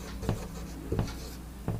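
Chalk or marker strokes on a classroom board during a grammar lesson, three short scratchy taps spaced about evenly, close and fairly quiet with no talking.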